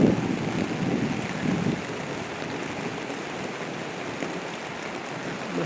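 Steady rain hisses and patters continuously, a soft broadband wash with slightly louder gusts at the start, no voices.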